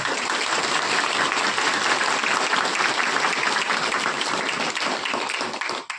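An audience claps their hands together in welcome at a Sarna religious gathering in Jharkhand, steady dense applause filling the room at close range and holding strong for several seconds before tapering at the very end.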